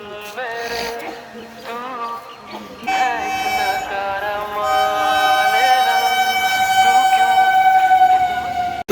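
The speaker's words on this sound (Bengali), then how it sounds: "তো আমাদের ট্রেনটা আসছে" A train pulling into a station sounds its horn in long, sustained tonal blasts that rise and hold, layered over rumbling platform noise, with people talking in the background.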